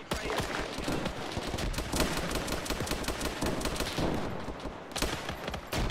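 MG42 machine gun firing in a video game, rapid continuous bursts of loud crackling shots with only a brief pause, dense and sustained throughout.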